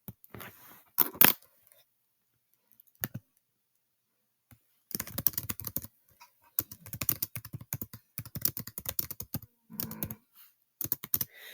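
Close, quiet computer keyboard typing comes in short bursts of rapid clicking keystrokes, separated by pauses of silence.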